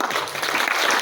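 Concert-hall applause from the audience at the Laurentius Symphony Orchestra's 20th-anniversary concert forms a brief, even roar of many hands before the second session.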